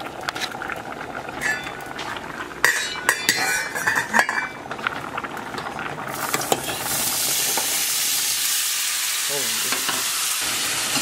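A pot of white rice bubbles on the stove while a utensil scrapes and stirs through it, with clinks of metal on the pot and a steady hissing simmer building in the background.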